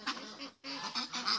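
Farm geese honk in quick, nasal bursts: a short run of calls, a brief pause, then another cluster of overlapping honks, moderately close.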